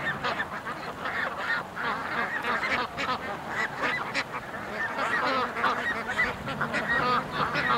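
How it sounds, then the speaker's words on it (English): A noisy flock of geese honking continuously, many overlapping calls close by, dense and loud throughout, near a pen holding over 1,000 ducks. "There's something about geese."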